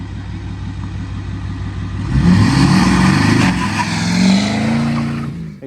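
A Ford F350 pickup with the 6.4 engine and manual gearbox idling, then revving hard into a loud, sustained burnout roar with rising engine pitch that eases off near the end.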